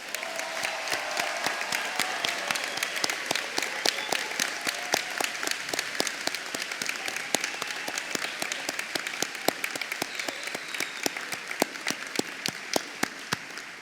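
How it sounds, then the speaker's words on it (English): A large audience at a 2019 summer commencement ceremony applauds newly conferred graduates with steady, dense clapping that holds at an even level for the whole stretch, without speech. "Let's give these people one heck of a round of applause."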